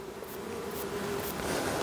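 Honeybees from a gentle, calm colony buzz in an open hive during an inspection. The hum is steady and continuous, moderately close, and no one speaks.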